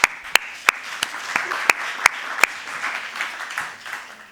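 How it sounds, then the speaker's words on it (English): Sparse applause from a small audience after a conference panel, a few loud individual claps standing out early, then thinning into softer scattered clapping. "and let's applaud them."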